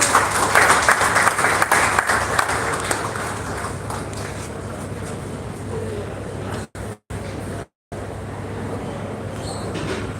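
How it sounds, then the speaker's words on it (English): Audience applause fills a hall at the inauguration of a moot court at Sanskaram University, dense and steady for several seconds before thinning, with a couple of abrupt dropouts near the end and some voices mixed in. "Please give it a huge round of applause."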